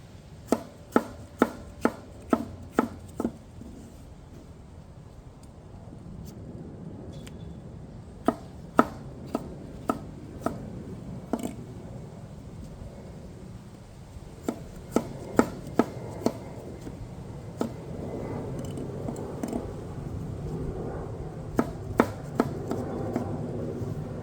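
A knife chops pork belly on a cutting board in short bursts of sharp, rapid strikes, with pauses between runs and a low background hum throughout.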